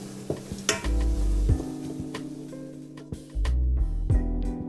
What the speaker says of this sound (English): that's why I'm going to put onions. We want them browned